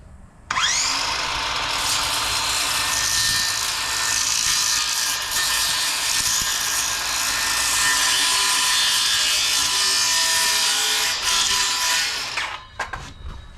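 A jigsaw cuts through plywood for a farm hog sorting board, one long, loud buzzing, rasping run that starts abruptly and holds steady for about twelve seconds before the motor winds down, close by with no talking.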